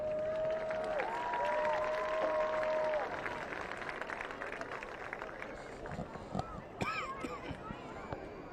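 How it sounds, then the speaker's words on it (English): Crowd applause at a high school event, a steady wash of clapping and scattered cheers in a large venue, with an announcer's amplified voice over it at first. "Let's give Lily Frances and all those other amazing young women a big round of applause."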